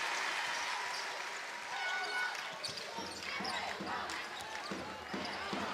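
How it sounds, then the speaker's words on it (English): Spectators clap for a departing player at a women's EuroBasket game between Latvia and France, scattered applause under arena noise, with ball bounces and a commentator's voice over it. "Yakubu claps the crowd. The crowd clap Yakubu."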